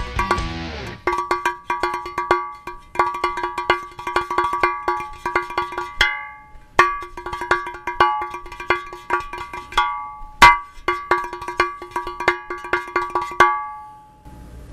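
Cowbell struck in quick repeated rhythmic patterns, bright metallic clanks with a ringing sustain between phrases, close and clear with brief pauses.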